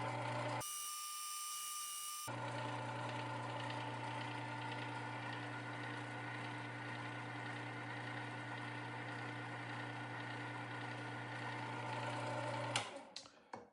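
A Work Sharp 3000 sharpener grinds a chisel edge with a quiet, steady motor whine and hum that runs continuously, then cuts off near the end with a few small clicks.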